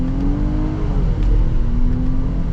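A 2022 Nissan Pathfinder SL accelerating in manual mode, heard from inside: a low, steady engine drone with rising tone under road rumble, moderately loud and continuous, no speech.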